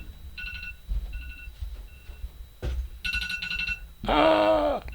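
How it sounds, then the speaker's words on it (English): An alarm rings indoors in bursts of bright electronic ringing separated by pauses, then ends in a louder, harsher buzzing tone, with low background noise and bumps underneath. "Is there an alarm going on?"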